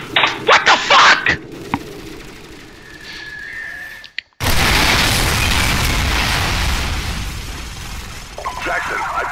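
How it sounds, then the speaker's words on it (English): Grenade explosions in Call of Duty 4: Modern Warfare, a cluster of sharp close blasts at the start, then a sudden loud roaring burst that rumbles on steadily, with a voice talking over parts. "Three grenades at the same time?"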